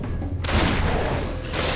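A gunshot from the game Risen 2: Dark Waters, a sudden loud blast at about half a second that stays broad and dense, with another burst near the end, with no talk over it.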